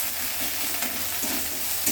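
Onion and masala fry and are stirred in a hot pan, giving a continuous close sizzle with brief stirring scrapes throughout the short stretch, and no voices.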